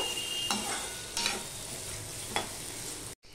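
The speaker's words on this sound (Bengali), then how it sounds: "এবার সম্পূর্ণটা আমি মিশিয়ে নিয়ে এটা আলুটা ভাজতে থাকবো।" Potatoes sizzle steadily as they fry with turmeric in a pan, broken by about three sharp scraping stirs of a spatula, close and clear with no talking.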